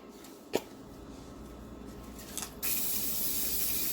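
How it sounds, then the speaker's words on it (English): Pam cooking spray hisses onto an 8x8 baking dish holding potatoes, a short click and faint spritz followed by a steady, louder hiss that runs to the end. "I'm just coating it with some Pam, some cooking spray."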